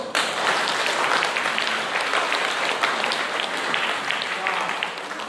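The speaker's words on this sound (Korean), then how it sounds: "자매님 박수" Sustained applause from a church congregation at a Catholic Mass, dense steady clapping that holds at an even level throughout.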